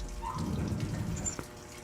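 Steady running water streams in a dim underground morgue in an SCP Foundation video game, a continuous wash with a few faint drips and no talk.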